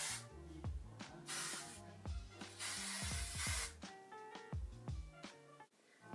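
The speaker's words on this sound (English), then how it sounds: "So now you could go ahead and apply some hairspray to your hair and you are done." Hairspray hisses onto styled beach-wave hair in several short aerosol bursts of a second or so, set against steady background music.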